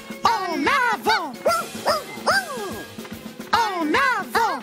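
The cartoon dog Pluto barks in quick excited bursts, yips and whimpers, loud and close, in a rhythmic series of playful woofs with a brief pause midway.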